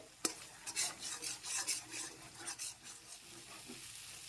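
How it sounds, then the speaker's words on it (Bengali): Spice paste with Kashmiri chilli powder and turmeric being sautéed in a pan, a quiet sizzle broken by repeated rhythmic spatula scrapes and stirs, close and faint. "আরো কিছুক্ষণ মশলাটাকে ভালো করে কষিয়ে নিতে হবে"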